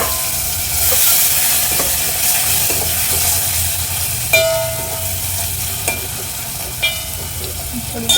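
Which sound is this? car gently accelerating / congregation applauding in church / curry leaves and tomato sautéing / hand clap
curry leaves and tomato sautéing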